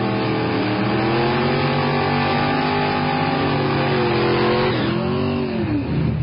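Classic hot rods at a drag strip in Tulsa, Oklahoma, engines roaring loud and close as they rev and accelerate, the pitch climbing steadily before a brief drop and another rise.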